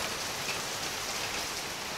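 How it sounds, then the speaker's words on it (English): Heavy tropical rain pours down steadily on the east coast of Koh Chang, Thailand, a dense continuous hiss drenching surfaces close by with no let-up and no voices. "the heavens have opened and we are getting absolutely drenched"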